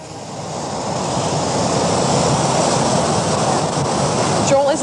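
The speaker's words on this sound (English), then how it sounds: "Oh, it's just gorgeous at this time of year, especially the way the water is rushing." Rushing water at Hogs Back Falls in Ottawa, a dense steady roar like heavy surf that stays constant and loud throughout, with some wind on the microphone.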